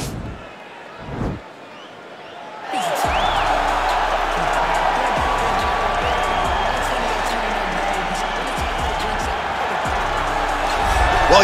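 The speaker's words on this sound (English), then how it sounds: "you hear the pop from the crowd, DC, as Nate Diaz gets set to make this walk" A big arena crowd in the UFC 4 video game roars and cheers as a fighter enters, rising suddenly after a quiet start and holding loud and steady to the end.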